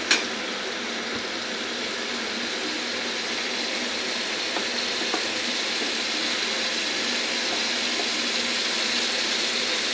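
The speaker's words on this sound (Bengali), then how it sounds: "সবজিটা ভাজা হয়ে গেছে।" Winter vegetables such as beans, cauliflower and stalks fry in a pan with a steady, moderately loud sizzling hiss that runs evenly throughout, with a sharp clack at the very start.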